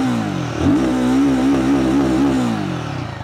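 A Royal Enfield Guerrilla 450 motorcycle engine revs up close, rising to a steady high growl that holds for a couple of seconds before easing off.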